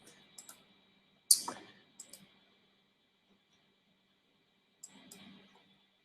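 Several sharp computer mouse clicks, single and in quick pairs, spaced across a quiet stretch, with a louder cluster near the start and a faint burst near the end.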